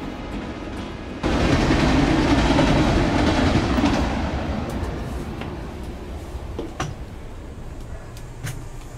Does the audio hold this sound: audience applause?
no